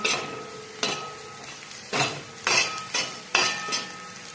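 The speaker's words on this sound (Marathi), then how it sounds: "घेऊयात छान असं हलवून। छान हलवून घ्यायचं चटणीला।" A spoon scrapes and clinks in a pan of onion chutney mixed with red chili powder, turmeric and salt, several distinct stirring strokes over a low sizzle, with no talking.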